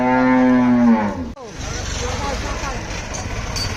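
A cow at a Hazratpur cattle market before Qurbani gives a loud, close moo, then the noisy market crowd and passing vehicles carry on after it.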